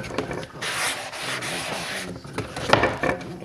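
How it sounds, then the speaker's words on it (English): Body filler putty for rust repair on a Ford F150 is mixed with a spreader on a board, giving close, rough scraping and rubbing strokes in short bursts, with no talk. "You gotta mix them all up."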